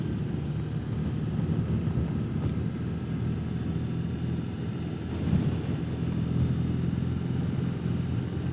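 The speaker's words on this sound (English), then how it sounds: "These big twin cylinders like to be a little lower RPM." Low, steady rumble of a 2021 BMW R18 motorcycle's big twin-cylinder engine while riding at fairly low revs, continuous throughout with wind-like noise and a slight swell near the middle.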